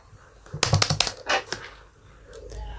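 Rapid clattery keystrokes on a computer keyboard during a modded Minecraft survival session, a quick burst of close taps followed by a few scattered presses.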